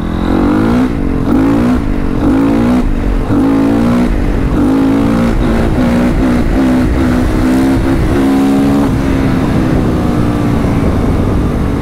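A Honda CRF450 dirt bike engine revs hard and climbs through the gears, its pitch rising and dropping with each shift, loud and close throughout.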